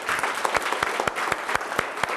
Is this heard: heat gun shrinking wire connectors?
no